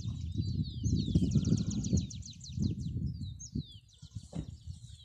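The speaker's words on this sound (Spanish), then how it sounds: "El canto de los gorriones." Small birds in the Ecuadorian highlands give quick high chirps and trills in repeated bursts, faint over a louder low rumble of wind or handling noise, with no voices.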